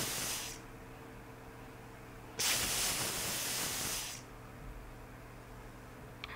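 A pressure cooker on medium flame, cooking dal after two or three whistles, lets out steam in sharp hissing bursts: a short one at the start, then a louder sustained hiss of under two seconds, close by with no voices.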